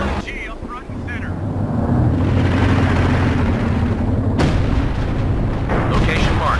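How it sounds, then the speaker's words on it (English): Artillery barrage of high-explosive shells in Company of Heroes 2, heavy rumbling booms building into a sustained loud roar, with a sharp blast midway, battle noise throughout. "Company, fire mission, barrage, HE."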